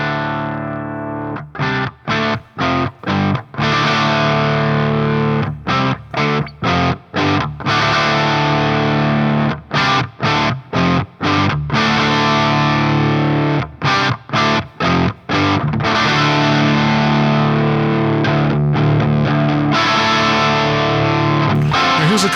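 A high-gain electric guitar plays through the first channel of a DiBiQuadro JupiterXTC amplifier, loud and heavily distorted, with chopped rhythmic chords that stop and restart sharply before a long sustained stretch.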